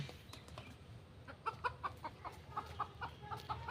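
Hens cluck on a free-range desi chicken farm in Bangladesh, a run of short, moderately close clucks over steady low barnyard background, with no talking.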